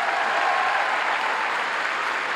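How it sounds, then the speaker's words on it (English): Dense, steady applause from a large audience at a swimming championship, continuous and loud throughout. "Can we get a round of applause for that?"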